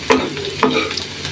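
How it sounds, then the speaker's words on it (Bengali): Fried onions with salt and turmeric get stirred in a pan for a Bengali squash bhaji, two or three close scraping strokes over a soft steady sizzle, with no talking. "এখন আমি নাড়াচাড়া করে দেব।"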